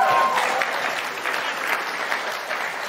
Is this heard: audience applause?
yes